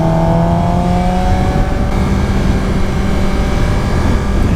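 A Suzuki GSX-R 600 motorcycle engine drones steadily and loudly while riding, a dense constant roar with wind noise and no clear revving changes.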